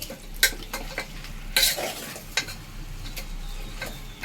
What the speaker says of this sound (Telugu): వీటినన్నింటినీ బాగా కలుపుకోవాలండి